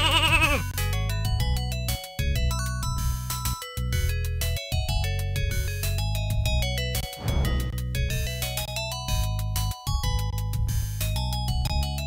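Game-style sheep bleats from The Legend of Kyrandia 2: The Hand of Fate recur over steady background music with melodic tones, loud and continuous throughout.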